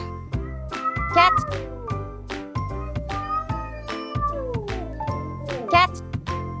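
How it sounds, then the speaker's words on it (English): A cat meows repeatedly in a quick run of short, close calls, a couple of them rising into sharper, drawn-out cries. "Cat."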